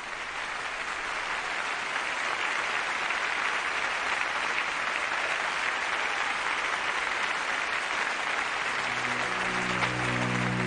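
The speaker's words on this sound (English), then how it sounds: "The applause would go on for so long that bells were eventually used to signal an end to the" Prolonged, dense applause from a large Soviet audience for Stalin rolls on unbroken as a steady roar, with a low tone emerging near the end.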